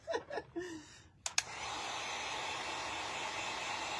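A hair dryer switches on after a brief moment of quiet and clicks, then blows with a steady broadband whoosh as it dries painted craft pieces for a deer door hanger kit, close and continuous.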